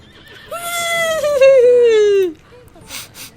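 A horse gives a single loud, close whinny: a high, wavering neigh that slides downward for about two seconds, followed by a few soft snorting breaths.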